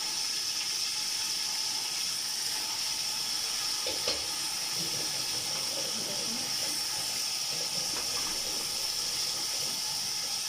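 Steady, loud sizzling and hissing of tomatoes frying in a hot pan, continuous throughout with faint stirring clinks.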